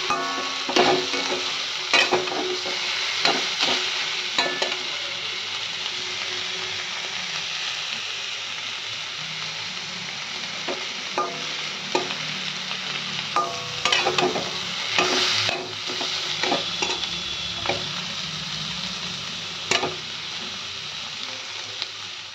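Boiled, deboned fish mashed into a paste for Bengali fish bharta, stirred and fried in oil in a pan: a steady close sizzle with repeated scraping and stirring clicks throughout, no talking.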